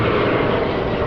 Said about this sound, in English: It's the plane that sounds like a train.